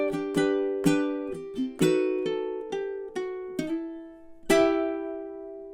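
Fingerstyle ukulele playing the closing section of the sea shanty The Wellerman, a string of plucked, ringing notes and chords in a steady unhurried rhythm, clear and close with no talking.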